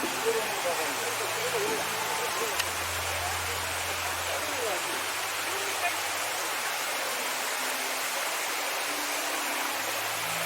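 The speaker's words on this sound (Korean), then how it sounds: "계속 폭포 소리가 들리더니 아, 이렇게 웅장한 폭포가 있었네요." Steady broadband rush of a large mountain waterfall on Gamaksan in Paju, South Korea, fills the scene continuously, with a low voice murmuring briefly underneath.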